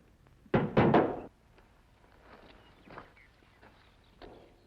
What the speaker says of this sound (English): All right, drop your guns.